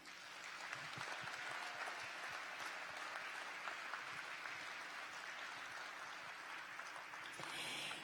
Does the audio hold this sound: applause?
yes